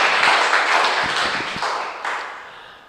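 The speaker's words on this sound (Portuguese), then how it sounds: "Dê um aplauso ao Senhor." Church congregation clapping during a worship service, a broad continuous wash of applause that gradually fades, with a few louder individual claps near the middle.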